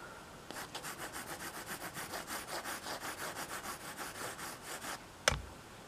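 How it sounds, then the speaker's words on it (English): Graphite pencil shading a drawing on paper, a steady back-and-forth rubbing stroke repeated rhythmically for several seconds, close and fairly quiet, ending with a sharp tap. "I'm just going to use this pencil because it spreads the lead around faster"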